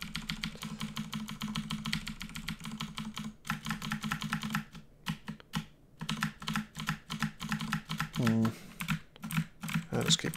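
A computer keyboard key pressed repeatedly while playing Dungeon Crawl Stone Soup, giving close, crisp clicks in quick clusters with short pauses between bursts, alongside a steady low hum and a brief tone near the end.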